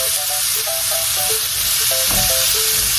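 Minced garlic, four cloves, sizzles steadily in a hot pan for a Cajun chicken pot pie while a utensil stirs it, with short scraping strokes over the continuous close frying hiss.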